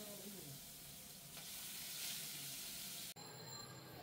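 Tangra fish frying in mustard oil, a dense close hiss and crackle that runs on steadily and then cuts out briefly near the end.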